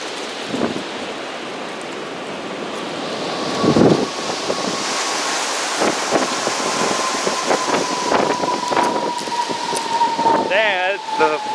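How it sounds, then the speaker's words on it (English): Strong wind gusting outdoors ahead of a storm, a steady rough roar with buffeting against the microphone and louder gusts, while someone talks over it. "the wind is definitely blowing outside"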